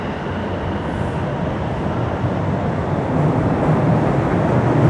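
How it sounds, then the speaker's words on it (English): Southbound subway train at Yorkdale Station in Toronto, a steady loud rumble of rolling cars that swells slightly toward the end, heard alone without talk. "And that would be a southbound train."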